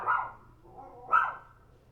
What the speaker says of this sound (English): My dogs again.